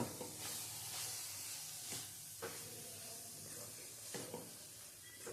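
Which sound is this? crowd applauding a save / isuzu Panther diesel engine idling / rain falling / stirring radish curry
stirring radish curry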